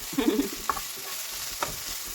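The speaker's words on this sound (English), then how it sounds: "we'll give that a toss and let it pick up the oils, garlic, and the ginger" Food with onion, garlic and ginger sizzles and fries in a pan, with a few brief tossing scrapes and clatters over the steady hiss.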